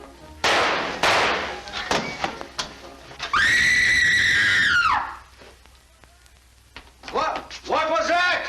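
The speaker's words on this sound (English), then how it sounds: "What was that? Who screamed?" A woman's long, loud, sustained scream in an old black-and-white film melodrama, cutting over agitated dialogue and thuds, then fading as other voices and a second shorter cry follow.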